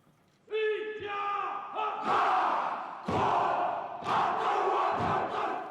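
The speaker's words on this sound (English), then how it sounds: "It's not every day you get a member of the royal family dancing the haka." Soldiers performing a haka war cry alongside Prince Harry, loud rhythmic chanted shouts from a group of men in bursts, with sharp vocal calls and stamping thuds between phrases.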